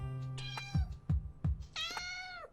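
Borscht the cat meows several times alone and close, a long call followed by three short meows and a final rising, drawn-out meow.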